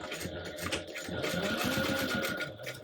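A sewing machine bastes handbag fabric with piping at a narrow seam allowance, running steadily and close with a fast, even mechanical chatter throughout.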